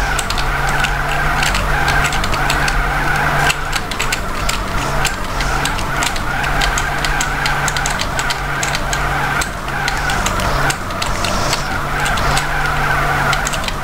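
A car drifts in GTA San Andreas with a continuous engine roar and tires screeching without a break. The sound stays loud and close the whole time, and no one talks over it.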